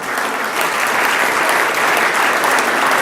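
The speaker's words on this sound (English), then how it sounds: "That's an applause line, by the way." A crowd applauds steadily and loudly, a dense wash of clapping that holds at the same level throughout, with no voices.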